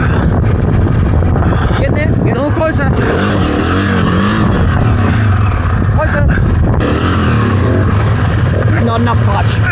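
Dirt bike engine during a clutch-pop on a training course, a loud, steady engine drone with rising and falling revs under heavy wind buffeting, with people talking over it.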